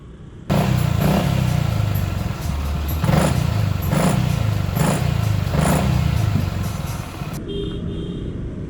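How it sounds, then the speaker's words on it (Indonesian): Yamaha XMAX scooter, nearly new with a worn wheel bearing, running with a steady engine drone and repeated crackling, clattering bursts roughly every second, loud and close, then cutting to quieter background. "motor baru 3000 kilo tapi bearing udah bunyi gitu"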